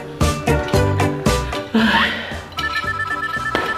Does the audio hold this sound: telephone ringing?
yes